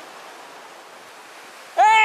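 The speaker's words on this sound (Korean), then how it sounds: "아, 파도도 점점 세지는데요" Steady surf washes against Naksan harbor in Yangyang on the east coast, a continuous broadband rush, until a sudden loud voiced cry cuts in at the end.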